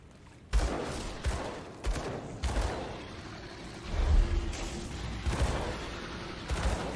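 Gunfire from two guns in the video game Grim Dawn, a run of heavy booming shots and bursts at uneven intervals over rumbling game noise, loud and close.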